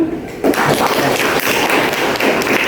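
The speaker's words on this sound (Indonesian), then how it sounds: "Dan pertanyaan yang bagus, beri aplaus dulu." Classroom applause for a student's good question, a dense, steady patter of many hands clapping that starts abruptly and continues close and loud throughout without pause.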